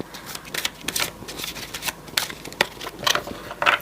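Playing cards shuffled and flicked close by, a rapid run of crisp papery riffles and snaps with short pauses between bursts.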